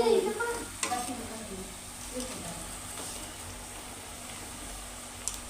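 Bhaje fritters frying in oil, starting with a louder sizzle and scraping and then settling into a quieter steady frying hiss with occasional clinks.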